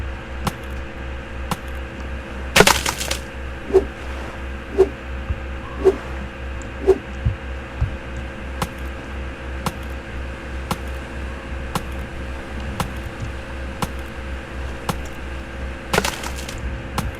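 A tool chopping wood in Stranded Deep, sharp splintering hits at a steady rhythm of roughly one per second over a constant low hum, with a louder crack near the start and again near the end.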